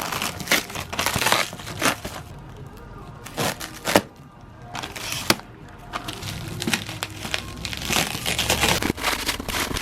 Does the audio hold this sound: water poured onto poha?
no